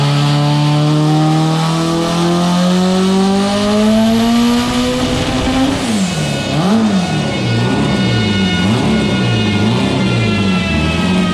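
A 1500hp car engine on a dyno revs loudly and steadily, the pitch climbing and then wobbling up and down as the throttle is pumped, with no talk over it.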